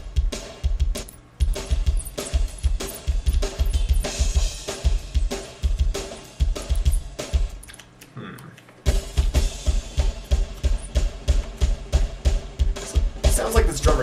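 Soloed kick and snare tracks from a death metal drum recording, a fast, relentless stream of punchy kicks and cracking snare hits with a brief gap midway before pounding on.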